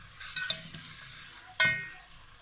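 A spoon stirs spiced cauliflower and potatoes with a stock cube over low heat in a pan, giving a couple of quick scrapes under a soft sizzle, then one louder scrape that fades into frying.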